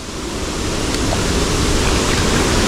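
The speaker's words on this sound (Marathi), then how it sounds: "हा असा खळखळणारा जो ओढा आहे तो आता बघायला खूप सुंदर दिसतोय" A babbling village stream flowing, a loud steady rush of running water close by, unbroken and with no voices.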